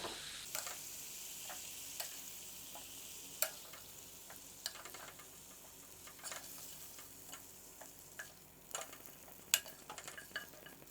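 Chicken pieces fry in a pressure cooker, giving a steady, soft sizzle dotted with scattered crackles and pops. It continues alone without any voices.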